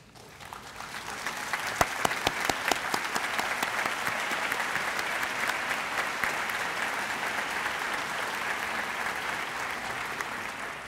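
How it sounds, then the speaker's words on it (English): An audience in a university chapel breaks into applause, sharp claps building quickly into sustained, even clapping that carries on steadily at moderate loudness before easing slightly at the end. "let us recognize you and give you applause"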